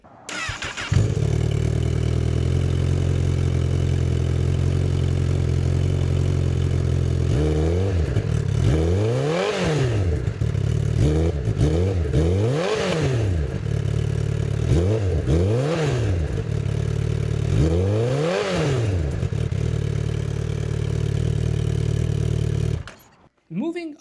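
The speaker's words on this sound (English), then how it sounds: "But if you're interested in hearing how the 2027 Honda CBR1000RR sounds," A 2027 Honda CBR1000RR liter-class sport bike idles steadily up close, then revs sharply several times in quick rising and falling blips before settling back to idle and cutting off.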